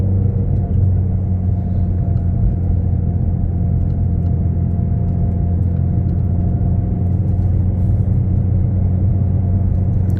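A Ford Mustang GT350 engine rumbles steadily and loudly from inside the cabin while driving, a constant deep drone with no revving peaks and no voices.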